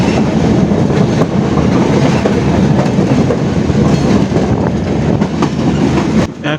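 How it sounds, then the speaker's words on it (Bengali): A train on the Jashore to Khulna route runs past the Noapara river port, giving a loud, continuous rumble with rhythmic wheel clatter throughout and a sharp change near the end. "নোয়াপাড়া নদী বন্দরের পাশ দিয়ে আমাদের ট্রেন ছুটে যাচ্ছে"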